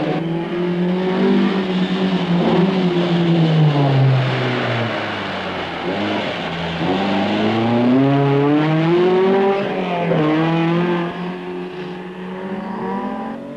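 Rally cars at the 1972 Monte-Carlo Rally, Alpine 1.6-litre and Porsche among them, engines loud and close, revving hard and rising and falling in pitch as they accelerate past, with no talk.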